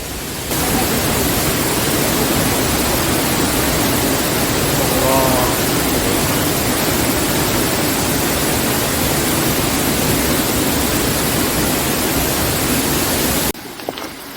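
A mountain waterfall on Dutasan roars as a dense, unbroken rush of falling water, loud and steady close by, with no other sound standing out.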